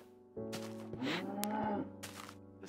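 A glitchy cow in a survival island video game gives one drawn-out moo, near and moderately loud, over light background noise with no speech.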